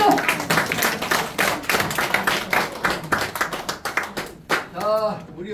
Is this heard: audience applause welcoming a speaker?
yes